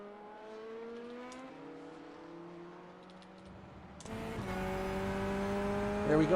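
GTE sportscars racing at Barcelona in a sim race, engines droning and rising in pitch as they accelerate down the track, with a louder, closer car roaring in partway through and tires squealing near the end.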